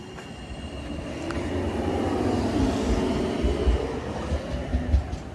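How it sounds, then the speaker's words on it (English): A Sheffield Supertram tram train passing through the new Magna stop, a rumbling swell of wheels and rails that builds and holds with clattering low thumps, heard from the platform with no talk. "As the tram train goes there."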